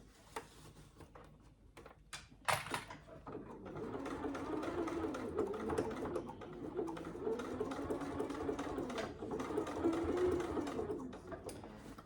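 A sewing machine back stitches across a thick saddle bag flap, starting after a few clicks and a sharp knock, then running steadily at moderate speed, close and fairly quiet.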